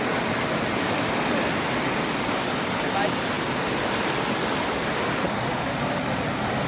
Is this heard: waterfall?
yes